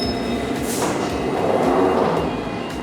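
A London Underground tube train running just after midnight on New Year's, heard from inside a carriage as a loud, steady rumble and roar with faint wheel squeal and rail clatter.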